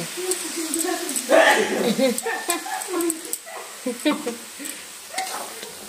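Spiced mutton masala with butter fried and stirred in a pan, a soft sizzle with intermittent scraping under a woman's speech throughout.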